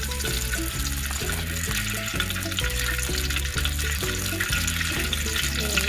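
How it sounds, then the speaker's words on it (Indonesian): Oil heats in a pan on the stove, a steady crackling fry hiss under a looping musical backing. "kita nyalakan kompor. Masukkan sedikit minyak."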